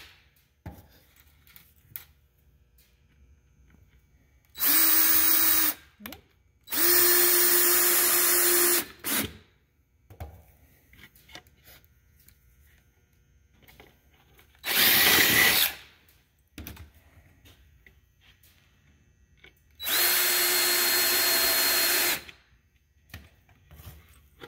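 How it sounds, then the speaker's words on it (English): A power drill pre-drills holes in wood boards for mink boxes, four separate loud whirring bursts of a few seconds each with quiet gaps and faint handling noises between them. "you'll want to pre-drill your holes before you screw them together"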